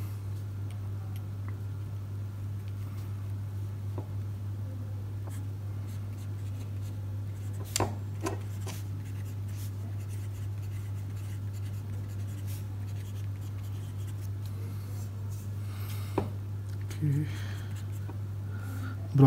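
A fountain pen with a broad nib writes on paper, its soft, intermittent scratching strokes sitting faintly over a constant low hum, with a few louder taps near the end.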